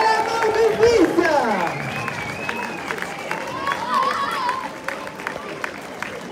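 At a summer festival in Torreilles, a crowd applauds dancing giant figures, with sustained clapping and cheering mixed with crowd chatter and a voice speaking over the noise.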